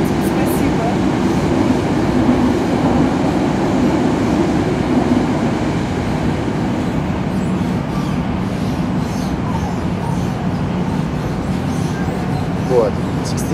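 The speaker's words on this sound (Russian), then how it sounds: "Хороший раритетный поезд." A vintage Moscow metro train rumbles along with a steady low drone and faint rail clatter, heard from inside the carriage, continuous throughout.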